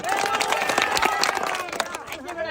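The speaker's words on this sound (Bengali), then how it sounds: "এই যে সবাই একটা জোরে হাততালি" A village crowd claps for a prize winner at a fun river tube-crossing contest, a dense burst of applause with scattered shouts and chatter mixed in, close and lively.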